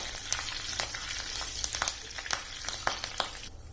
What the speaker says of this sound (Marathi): छान खमंग फोडणी तयार करायची